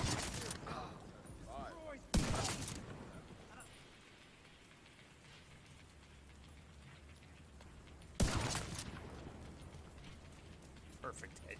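Two loud, sharp gunshots ring out about six seconds apart in The Division 2, each with a short echoing tail, over a bed of rustling outdoor game ambience and faint voices.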